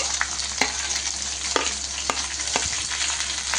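Thin-sliced onion frying in hot oil with mustard seeds and cumin, a steady close sizzle with periodic scraping stirs and a few sharp spatula clicks against the pan, no voices.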